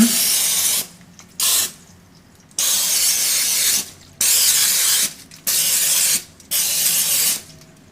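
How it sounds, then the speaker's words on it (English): An aerosol can hisses out six spray bursts of varying length, separated by short quiet gaps, close and loud. "you want to make sure to spray it with nonstick cooking spray"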